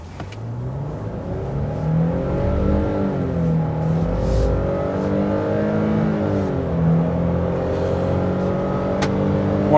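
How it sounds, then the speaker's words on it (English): A Nissan Frontier pickup with a 310-horsepower engine accelerating hard, its steady engine drone climbing in pitch through the gears, loud and continuous with no talking. "Wanted to give you guys an idea of the acceleration on this vehicle."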